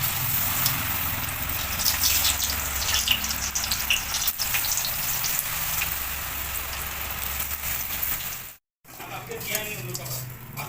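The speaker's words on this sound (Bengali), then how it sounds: "এবার পকোড়াগুলো ভেজে নেব" Pakoras fry in hot oil with a dense, steady rain-like sizzle and crackle, close and constant, with a momentary gap near the end.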